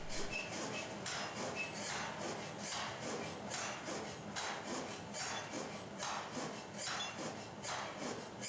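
A massive air hammer forges a glowing steel billet into a piston blank, giving repeated heavy impacts at a steady rhythm over continuous dense industrial clatter and roar, close and loud.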